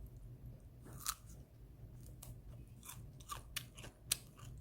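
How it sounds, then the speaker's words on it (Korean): Raw ginseng root being chewed up close, with a series of crisp, irregular crunches and bites over a quiet low hum. "저는 인삼도 그냥 생으로 막 씹어 먹거든요"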